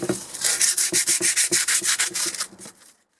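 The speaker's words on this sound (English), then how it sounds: "so this is the last rub of sandpaper" An East German steel helmet being hand-sanded with 150 grit sandpaper, a fast steady run of close, loud rasping back-and-forth strokes that slow and fade at the end.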